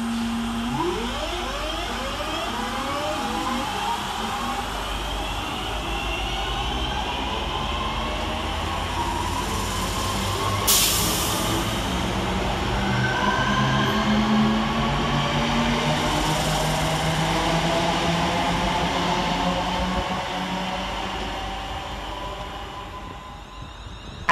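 Two coupled West Midlands Cross City electric units, 323206 and 323210, depart Duddeston station with a rising electric motor whine and steady wheel rumble that swells and then fades as the train pulls away, with no talking.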